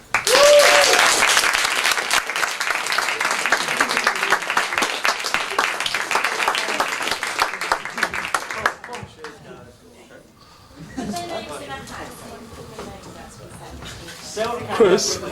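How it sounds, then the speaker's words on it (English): Audience applause at a film awards screening bursts out loud and dense for about eight seconds, then thins into scattered claps as voices take over. "these guys deserve another big clap"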